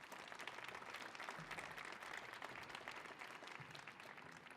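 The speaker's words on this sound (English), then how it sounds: "I think that deserves a hand clap" Hand clapping from a Millennium Stage audience, a very faint, distant patter of many hands that stays steady and even, with no voices over it.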